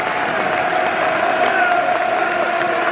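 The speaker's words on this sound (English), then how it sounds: "Claps all around." A football crowd applauding at half time of an FA Cup third round match between Millwall and Crystal Palace, a steady, fairly loud wash of clapping and crowd noise that holds evenly throughout.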